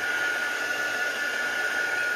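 A hair dryer blows steadily and loudly close by, a constant whooshing hiss with a high whine, used to dry an inked stencil after card-making splatter work.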